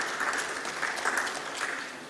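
An audience applauds at an Innovation Village event, a dense, steady clapping that holds for about two seconds and eases slightly at the end.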